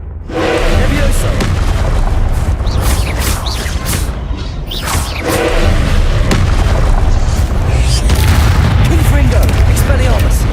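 Confringo blasting spells from Hogwarts Legacy fire in a dense, continuous barrage of booms and bursts, loud and close, layered over busy combat noise with a voice underneath.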